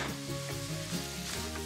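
Thinly sliced fennel and onion sauté in melted butter, a steady close sizzle with faint stirring scrapes running throughout the short stretch.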